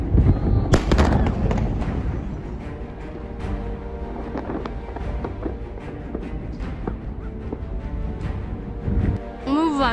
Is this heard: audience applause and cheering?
no